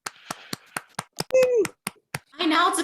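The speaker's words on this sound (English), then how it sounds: "Please open your mics and share a round of applause for the new members of our National Society." Scattered applause for new Sigma Tau Delta members at a university induction ceremony: about a dozen separate, sharp hand claps from a few people over open microphones, with brief voices and a cheer mixed in.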